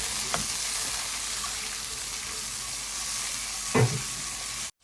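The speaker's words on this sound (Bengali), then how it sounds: "টমেটো অ্যাড করলাম ভালোভাবে কষিয়ে নেব" Spice masala of coriander and cumin powder with tomato sautéing in a pan for a fish curry: a continuous close sizzle with a couple of short stirring knocks near the end, no voices.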